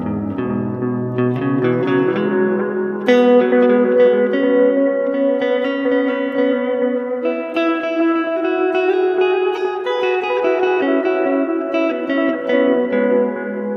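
Sustained electric guitar notes playing a major pentatonic melodic run, washed in reverb with trailing delay echoes, steady and full throughout.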